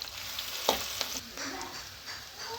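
Chicken curry being stirred in a pan, soft scraping and clinks of a spoon against the pan over a faint sizzle, with a couple of sharper knocks early on.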